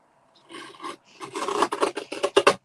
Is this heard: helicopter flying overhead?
no